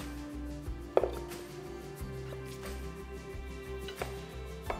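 Knife chopping onions and jalapenos for a ceviche salad on a cutting board, a few sparse close taps about a second apart over a steady low hum, with no talking.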